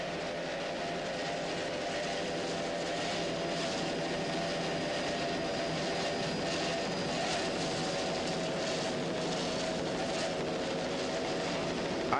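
A 30-foot Spectre offshore racing powerboat with three 2.5 EFI outboards in a pro stock race at Key West, a steady, loud engine roar and hull rush holding constant throughout with no talk.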